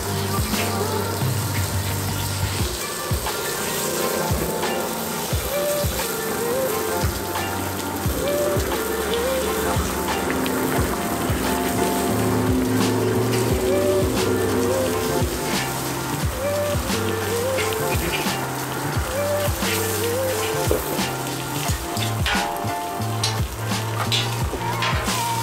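Pepper-crusted tuna sears on a Blackstone griddle, giving a steady close sizzle with crackling pops and spatter that runs on at a moderate level with no talk.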